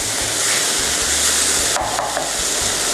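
Stuffed tofu is stirred and tossed in a hot pan with a little water, giving a steady close sizzle and frying hiss, broken by a few wooden scraping clatters near the end.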